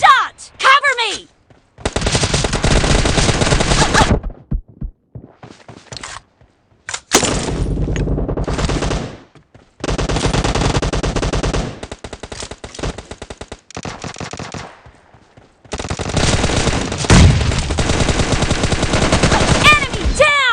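Rapid automatic gunfire from a mobile team shooter game rattles in long, loud bursts with short gaps, joined by in-game voice callouts.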